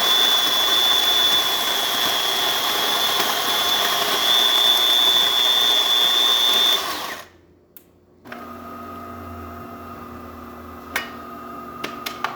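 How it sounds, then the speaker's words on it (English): A serviced DeLonghi espresso machine with a new mecanovalve pulls a shot, a steady loud pump drone with a high whine that cuts off, then a quieter hum with faint clicks and dripping. "let's wait for the machine to cool down just a little bit and we're gonna do an espresso shot."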